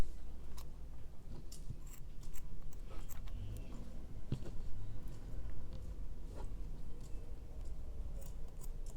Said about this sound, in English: And then cut the excess yarn.